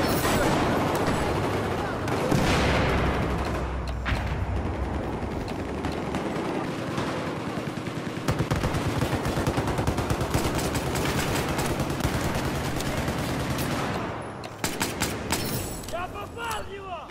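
Dense, loud gunfire from a 1911 pistol in the video game Battlefield 4, with sustained rapid shots and battle noise running almost continuously, then a few sharp separate cracks near the end.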